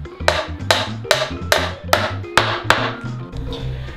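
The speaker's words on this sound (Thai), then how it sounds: "ตีตะปูครับ" Hammer driving nails into pallet wood planks for a loft bathroom floor laid over cement board, seven loud, sharp strikes at a steady pace, each ringing briefly, with soft shuffling between blows.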